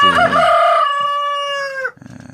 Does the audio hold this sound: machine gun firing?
no